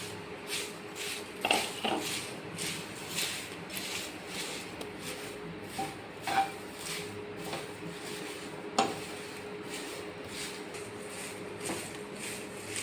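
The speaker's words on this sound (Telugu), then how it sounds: "ఒక వన్ స్పూన్ నూనె వేసుకొని మనం ఎండకి పెట్టిన కరివేపాకుని వేసుకొని బాగా ఫ్రై చేయాలి" Sun-dried curry leaves frying in a spoonful of oil in a pan on the stove, with scattered scraping clicks of a spoon stirring against the metal over a low steady sizzle, close and fairly quiet.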